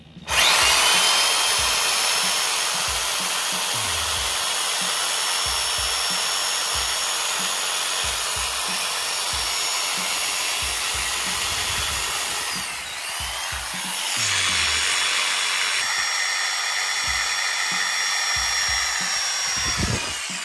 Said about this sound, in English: That's a jigsaw.